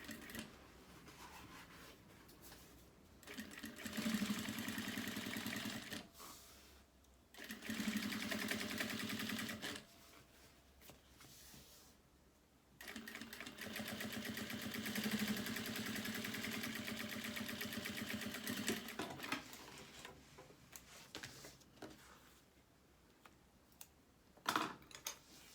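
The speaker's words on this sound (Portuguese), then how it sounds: "Então, vai organizando enquanto costura." A sewing machine stitches a fabric notebook case with a zipper, running in long steady mechanical bursts that stop and start several times. Each run is fairly loud and close, with no talking over it.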